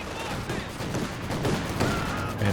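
Bursts of PPSh submachine gun fire in Company of Heroes 2, rapid crackling volleys layered over battle noise, with a voice talking over the shooting.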